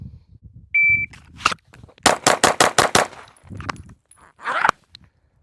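Rapid string of Glock 19X pistol shots on a range, six sharp reports in quick even succession after a single opening shot and a short electronic beep from a shot timer, loud and close.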